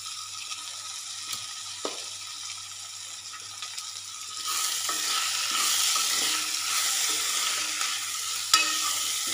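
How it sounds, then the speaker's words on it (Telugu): Boiled potatoes being stirred and broken up with a spoon in a hot pan for aloo poratu, soft scraping and sizzling throughout, growing louder and denser midway with a sharp clack near the end. "ఈ ఆలు అనేది ఇట్లా కట్ చేసుకోవాలి స్పూన్ తోటే."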